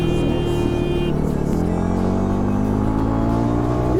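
A Jawa 42 Bobber motorcycle runs in fifth gear on the road, its engine droning loud and close with a steady harmonic hum that slowly shifts in pitch. Wind rush sits under the engine, and no voices are heard.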